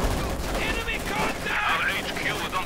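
Submachine gun bursts from Soviet shock troops firing PPSh-41s at Grenadiers in the real-time strategy game Company of Heroes 2, a dense, continuous crackle of automatic fire under a commentator's voice.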